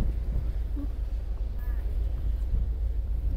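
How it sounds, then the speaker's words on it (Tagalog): Strong wind buffets the microphone outdoors on a winter trip in Tallinn, Estonia, making a continuous low rumbling roar, with faint voices in the background. "Grabe hangin."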